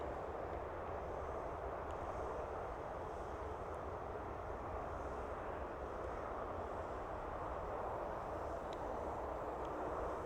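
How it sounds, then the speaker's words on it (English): A WEFONE WF40 GPS gimbal 4K drone flies overhead, its motors making a steady, faint whirring hum that continues unbroken under light ambient noise. "Yeah, it is a very slow drone."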